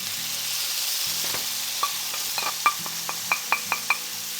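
Grated tomato goes into a pan of chicken liver sautéing on the stove, giving a steady, close sizzle broken by a run of light metallic clinks and scrapes from stirring toward the end.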